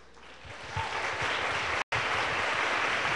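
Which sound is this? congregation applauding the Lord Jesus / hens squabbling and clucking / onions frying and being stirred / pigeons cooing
congregation applauding the Lord Jesus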